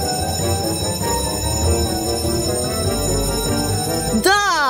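A bell rings near the end, a single bright struck tone with a long decaying shimmer, heard over continuous loud background music in a food-challenge setting.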